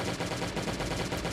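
Rapid automatic gunfire from an M16 rifle in the survival video game Last Day on Earth, a dense, continuous burst of loud shots with no talk over it.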